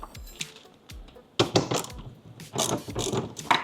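A power drill whirs and ratchets in short bursts while loosening the 13mm hex bolts that hold the window on a Tesla Model 3 door, a close, uneven mechanical clatter with brief pauses.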